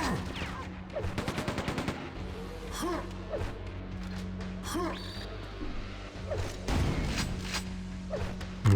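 Video game gunfire aimed at crystals: rapid, clattering bursts of shots come and go over a steady hum, mixed with scattered zaps and game effects, with no talk.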